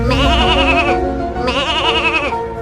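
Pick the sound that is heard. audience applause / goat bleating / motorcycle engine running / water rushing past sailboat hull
goat bleating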